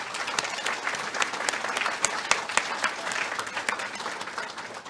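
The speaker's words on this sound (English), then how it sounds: "How about a big round of applause for all of our displays?" Audience at a national show awards banquet clapping together, a dense sustained round of applause with sharp individual claps standing out from the crowd.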